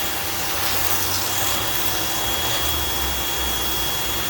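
A pressure washer fires a 0 degree nozzle jet, a steady, loud, continuous spraying hiss with a low motor drone underneath, unbroken for the whole stretch and with no talk.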